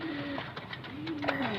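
A breeding pair of Golden Imamdin fancy pigeons gives soft, close cooing with rising and falling calls, briefly and at low volume.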